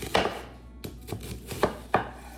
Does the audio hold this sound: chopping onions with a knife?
yes